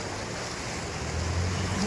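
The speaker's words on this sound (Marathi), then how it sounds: "बघा तुम्ही पाणी पुलावरनं चाललंय" Floodwater from monsoon rains rushes over a bridge in a dense, continuous roar, loud and close, with wind buffeting the microphone and no voices.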